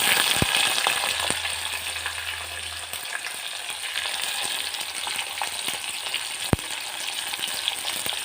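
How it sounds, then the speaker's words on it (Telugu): Chopped onions frying in a pan for sambar, a steady close sizzle with occasional stirring clicks, no voices. "వీటిని బ్రౌన్ కలర్ వచ్చేంత వరకు ఫ్రై చేసుకోవాలి."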